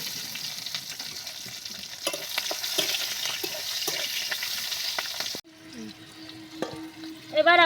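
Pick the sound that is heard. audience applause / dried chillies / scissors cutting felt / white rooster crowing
dried chillies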